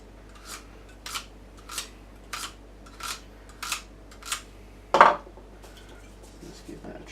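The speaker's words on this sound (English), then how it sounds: "I'm going to have to try and do it with a knife." A knife slices through armour material for a Dawn of Justice Batsuit build, giving about seven short, evenly spaced scraping cuts, close and moderate in level, with one louder, sharper stroke near the end and no talking.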